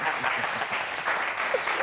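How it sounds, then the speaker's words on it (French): A studio audience at a French dating game show breaks into applause, a brief, even patter of many hands clapping with faint voices mingled in. "ça s'applaudit."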